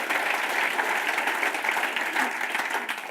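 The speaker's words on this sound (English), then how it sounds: "Round of applause." A talk audience gives a steady round of applause, dense, even clapping filling the whole stretch at moderate loudness with no speech over it.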